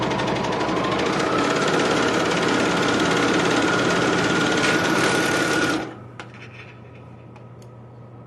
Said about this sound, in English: So I'm just overlocking.